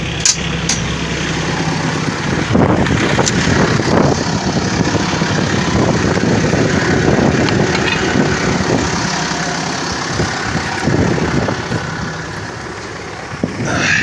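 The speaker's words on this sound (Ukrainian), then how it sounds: "І чую, трактор так легенько пішов вже" A tractor engine runs steadily at close range while pulling a disc harrow across a field, a continuous low rumbling drone with occasional knocks and rattles throughout.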